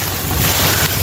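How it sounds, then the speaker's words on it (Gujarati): A tractor engine runs steadily on a farm, a continuous low droning rumble with broadband wind-like noise over it, loud and close throughout. "ભાઈ ટ્રેક્ટર ચાલુ કરી દીધું ને"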